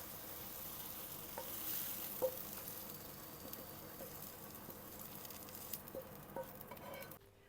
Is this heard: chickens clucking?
no